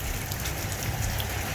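Rain falls on potted house plants out on a back porch, a steady, dense hiss of drops that runs evenly and fairly loud throughout with no voices.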